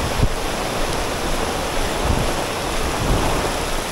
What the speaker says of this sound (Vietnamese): Một mùa mưa sắp đến với Nha Trang, dã man thật, rất to, mưa rất to luôn.